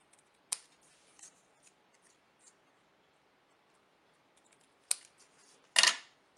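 Scissors cutting bias strips from folded card paper for a mini Christmas album, heard as a few sharp, close snips spaced apart, the last one longer and louder, over near silence.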